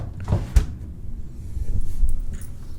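A small drawer slides open in a hotel's Club King room, giving a couple of close wooden knocks and a short rumbling slide amid room noise.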